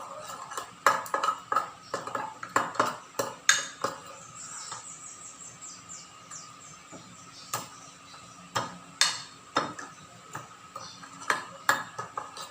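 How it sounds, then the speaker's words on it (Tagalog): A utensil stirs butter melting in a pan, making rhythmic metallic clinks and scrapes against the pan at an uneven pace, close and fairly quiet with no talking. "tuloy na ng paghalo upang ma-melt lang natin yung ating butter"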